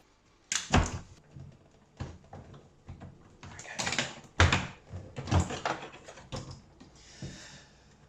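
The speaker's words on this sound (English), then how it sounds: "the door hinge can be levered away from its retaining clips" Sharp clicks, knocks and scraping thuds come close by at irregular intervals as an integrated dishwasher's door hinge is levered away from its retaining clips and worked loose.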